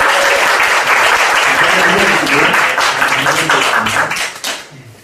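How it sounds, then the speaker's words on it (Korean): A church congregation applauds steadily during an appointment ceremony for cell group leaders at a Korean Sunday service, with dense, sustained clapping filling the room and tapering off toward the end. "박수 한번 해주시기 바랍니다"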